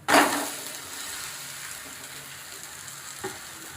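A savoury dhirda pancake frying in oil on a pan: a steady, close sizzle that starts with a sharp burst, settles into an even crackle, and is broken by one small clatter near the end.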